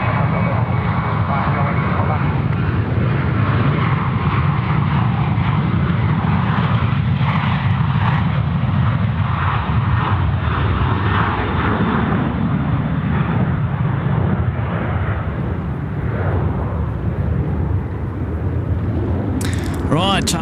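Airliner jet engines roar loud and steady at Sydney Airport near runway 34 left, a broad continuous rumble with radio chatter heard over it.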